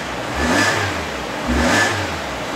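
A used 2019 MG ZS 1.5 X SUV engine is revved hard twice in close succession while the car stands still, with a loud mechanical roar that swells and falls back each time.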